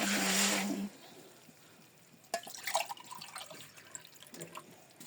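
Water poured from a large coffee cup onto about two kilograms of jaggery for syrup, a brief loud splash at first, then quieter trickling and dripping sounds in a kitchen.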